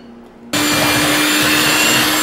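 Electric hand mixer with beaters creaming cupcake batter for American pie cupcakes, switching on abruptly after a brief quiet moment and then whirring loudly and steadily at close range.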